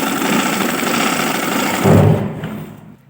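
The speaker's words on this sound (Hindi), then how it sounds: "शर्ट के ऊपर सिलाई लगाएंगे बिल्कुल किनारे पे" A sewing machine stitches close along the edge of kurti fabric, giving a loud, steady motor hum that swells briefly and then stops.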